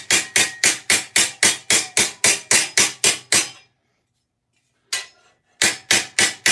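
Steady, sharp hammer blows flattening a piece of armour metal, about a dozen evenly spaced strikes, then a pause, a lone hit, and a few more strikes, loud and close with no talk.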